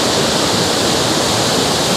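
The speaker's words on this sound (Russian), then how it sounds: "Невероятный радужный водопад." A steady, dense roar of falling water, loud and continuous like a nearby waterfall, with no voices.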